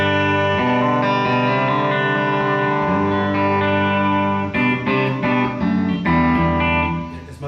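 A Fender Mini Bassman 1812 combo amp plays an electric guitar with lush reverb, sustained chords ringing out and then a busier run of strummed notes, loud and alone.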